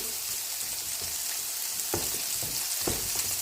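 Homemade meatballs sizzle and fry in a pan of tomato sauce, a steady close crackle broken by a couple of brief stirring scrapes.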